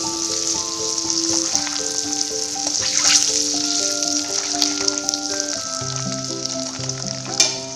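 Onion masala frying in a pan with chili powder for egg curry, a loud, steady sizzle with occasional stirring, set under background music with no speech.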